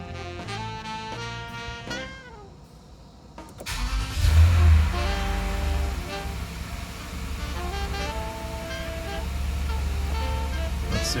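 A car engine, just repaired, cranks briefly and catches, then settles into a steady, quiet, smooth idle that holds for several seconds with no talk.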